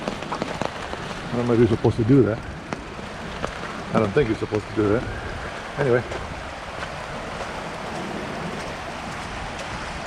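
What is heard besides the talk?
rain falling outdoors at Eagle Falls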